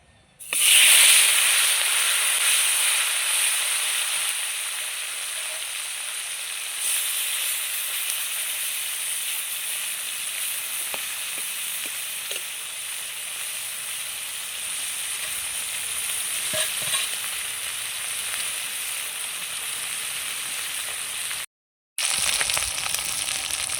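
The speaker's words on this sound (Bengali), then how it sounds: "তেলটা আমার গরম হয়ে গেছে, মাছগুলো ভেজে নেব।" River fish fry in hot oil with a steady, bright sizzle and hiss that holds for the whole stretch, broken only by one brief drop to silence near the end.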